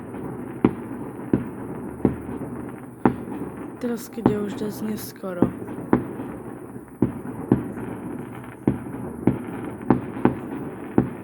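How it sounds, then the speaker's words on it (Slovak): Firecrackers set off outside at night crack in a steady irregular series of sharp pops, some near and loud, others farther off, while someone speaks over them. "Nejaký šialenec tu teraz púšťa petardy."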